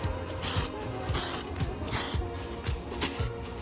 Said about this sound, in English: What you guys can do to make it smell really good is spray some of this on it.